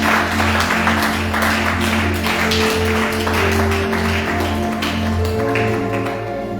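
A church congregation applauds to acclaim the Lord, a steady patter of many hands that is loud and continuous, layered over a sustained organ or keyboard drone.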